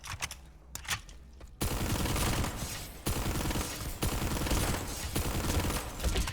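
Rapid automatic gunfire from a TR carbine in a video game, sustained bursts of dense, loud shots separated by short gaps, starting after a brief quieter stretch of scattered clicks.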